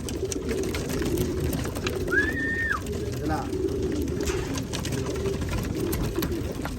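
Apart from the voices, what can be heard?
birds cooing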